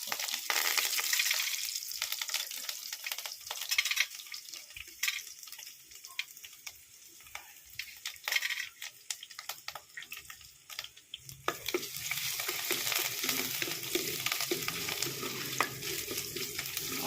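Ginger, garlic and curry leaves frying in oil for egg curry, a continuous sizzle with scraping stirring strokes, the crackle brightening and swelling toward the end.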